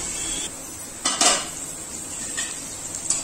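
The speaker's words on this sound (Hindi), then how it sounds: "अभी मैं डाल देबो हम चना ला। मैं थोड़ा भून लेबो 5 मिनट तक" Chickpeas (chana) roast in a pan with a soft sizzle, stirred by a utensil that scrapes and clinks against the metal in a few short bursts, close and alone without talk.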